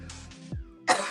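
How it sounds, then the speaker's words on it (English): Coughing after smoking cannabis: two harsh, close coughs in quick succession with a short pause between them. "And right off the bat, they're making me cough."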